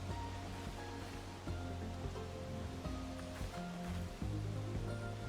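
Steady, dense rain falls in an online role-playing game, a constant hiss and patter that holds throughout under shifting background music tones.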